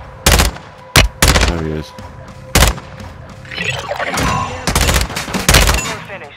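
Loud gunfire from Call of Duty Modern Warfare 2: several sharp separate shots and short bursts spread across the clip, with a brief spoken line and in-game clatter between them.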